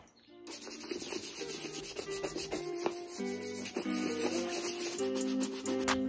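Scrubbing and cleaning the seat of a Peugeot 103 S moped, a close, continuous rhythmic rubbing with repeated strokes and no talk.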